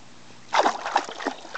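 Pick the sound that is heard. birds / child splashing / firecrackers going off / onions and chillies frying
child splashing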